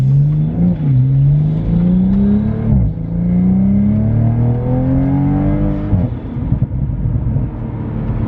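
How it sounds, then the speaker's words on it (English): Toyota Supra with a dual cat-back exhaust driving in sport mode, engine revving up through gears with rising pitch, a shift break, then deep muffled bassy burbles, loud and close. "So you still hear the burbles, but they're kind of muffled and more bassy"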